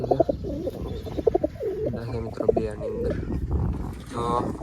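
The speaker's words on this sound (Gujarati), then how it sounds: "કબૂતર બે" Pigeons coo in soft, repeated throaty bursts close by, while someone talks over them almost continuously.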